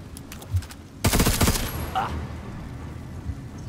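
Video game gunfire in Necromunda: Underhive Wars, a short rapid burst of shots followed by a fading tail and faint effects afterward.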